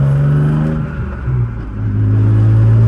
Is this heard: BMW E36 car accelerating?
yes